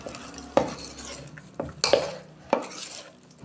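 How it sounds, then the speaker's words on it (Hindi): A spoon scrapes and clinks against a metal pot while spiced batter with tempered mustard seeds is stirred, giving four or five sharp knocks among softer sloshing and a faint sizzle, close up with no talking. "अभी इसको मिक्स कर देंगे।"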